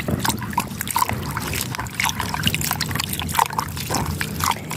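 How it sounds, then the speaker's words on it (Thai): Noni leaves are crushed by hand in water, producing continuous sloshing, trickling and squelching close by, with small splashes recurring throughout. "ขยี้ใบ ใบยอนะคะ"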